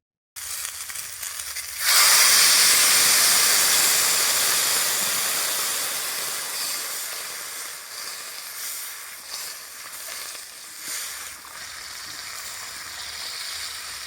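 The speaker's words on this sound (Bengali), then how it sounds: "এবার আমি জল দিয়ে সিদ্ধ করব" Water poured into a pan of frying vegetable stalks and potatoes bursts into a loud sudden sizzle and steam hiss, which slowly settles into a softer, crackling simmer, close and without talking.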